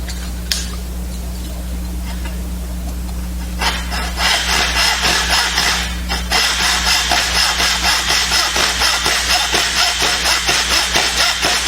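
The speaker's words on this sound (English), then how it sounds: "cutting a dovetail, you can use a back saw" A back saw cutting wood for a dovetail, starting with a few tentative scrapes and then settling into a steady rhythmic back-and-forth rasp of close, crisp strokes over a low background hum.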